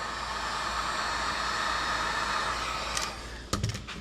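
A heat gun blows steadily on damaged plastic body panels of a Can-Am X3 side-by-side, a continuous close airy roar that cuts off near the end, followed by a few faint handling knocks.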